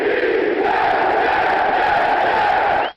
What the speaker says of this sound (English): Let's give him a Jets cheer.